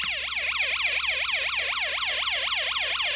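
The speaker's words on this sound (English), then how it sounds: "We can make a fire engine sound by putting the wire here." A wailing electronic fire engine siren from a Snap Circuits Arcade kit sweeps up and down in fast, steady cycles, loud and continuous with no talking.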